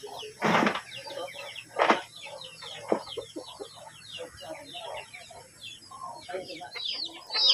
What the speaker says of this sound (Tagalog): Ang dami ng manok ko.